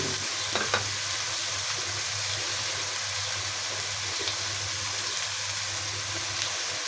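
Tomatoes and chilies fry in a pan for aloo gosht, a steady, fairly loud sizzle running throughout with a low background hum and a few faint clicks of stirring.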